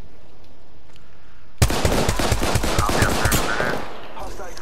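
Rapid automatic gunfire from the Apex Legends video game bursts in suddenly after a quiet stretch, loud and close, with fast repeated shots and some overlapping fire.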